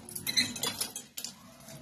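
A knife cuts through round potato patties on a plate, giving a few close metallic clinks and scrapes in brief uneven bursts, then a short pause.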